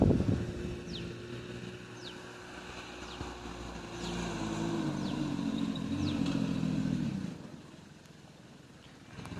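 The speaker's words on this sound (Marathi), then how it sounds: "तर गाईज आता आला आपला ट्रॅक्टर समोरून" A tractor engine approaches along a farm road, a steady low rumble that swells in the middle and then eases off, with some wind noise throughout and no talking.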